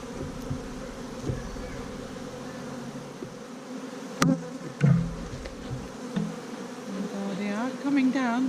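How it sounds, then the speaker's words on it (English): Bees hum and buzz steadily around an open brood box during a hive inspection, a close, continuous insect drone with a few sharp knocks and movements and no talking. "brush or puff away some of the bees here"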